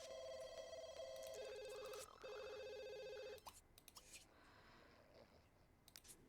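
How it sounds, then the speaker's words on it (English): Telephone in The Sims video game ringing with a bright electronic trilling tone in repeated bursts, loud and close, then stopping and leaving faint game ambience with small clicks. "Go answer the phone because it's ringing again."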